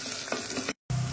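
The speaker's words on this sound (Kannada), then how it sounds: "ಸ್ವಲ್ಪ ಫ್ರೈ ಮಾಡ್ಕೊಳ್ಳೋಣ. ಇದನ್ನು ಸಣ್ಣ ಉರಿಯಲ್ಲಿ ಇಟ್ಕೊಳ್ಳೋಣ." Rice and chopped ginger fry in a pan over a low flame for a Mangalore-style breakfast, giving a close, continuous sizzle with light stirring scrapes, briefly cut by a short gap of silence.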